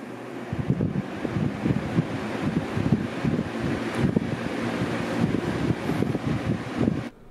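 A box fan running on a portable power station as a small test load: a steady, close whooshing drone with a fluttery low rumble, continuous until a sudden stop at the end, with no talking.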